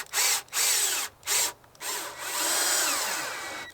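Power drill driving screws into PVC pipe: several short bursts of motor whirring with brief pauses between, then a longer sustained run as a screw is driven home, close and loud.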